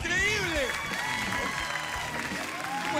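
A studio audience applauds and cheers for a professional wrestler on a Spanish-language TV show, a steady wash of clapping with crowd noise throughout, while voices talk over it.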